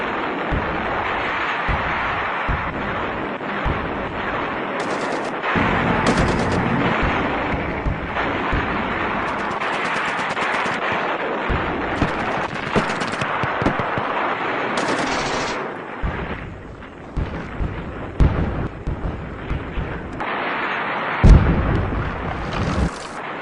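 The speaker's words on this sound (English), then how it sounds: "some bearing artillery and rocket guns already opening fire." Artillery and rocket guns fire at a D-Day reenactment, with loud, dense volleys of booms and rapid machine-gun-like bursts layered over a constant rumble, crackling without pause throughout.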